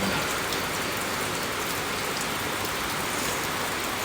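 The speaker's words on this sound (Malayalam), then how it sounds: "അതിനൊരടയാളമാണ് ഈ പെയ്യുന്ന മഴ." Steady rain falls heavily and evenly, a dense continuous patter on surfaces with no voices.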